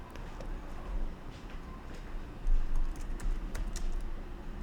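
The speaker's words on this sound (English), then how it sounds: "we can type any question also." Keys clatter on a computer keyboard as a question is typed into an AI-powered question-and-answer web app, a steady run of close, light clicks with a brief denser burst midway, no voices.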